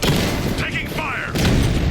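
Gunfire and explosions in Batman Arkham Knight during a fight against Cobra tanks: dense, continuous loud booming and crackling battle noise with a voice calling out over it.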